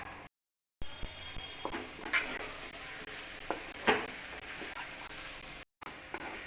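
Chicken, ghee-roasted with spice powder, sizzles and fries in a pan, steady crackle broken by a few sharp scraping stirs and short gaps of silence, close and moderately loud with no voices.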